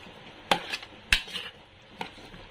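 Metal spoon scraping and clanking against a pot while chicken adobo is stirred, three distinct knocks spaced about half a second apart over a faint background, no talking.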